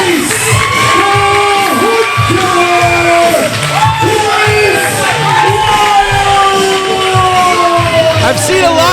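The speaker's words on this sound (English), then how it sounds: "Listen to this crowd. So happy." A professional wrestling crowd roars and cheers continuously at an indoor show, loud and dense, with whoops, shouts and a scattered high yell rising over the sustained din.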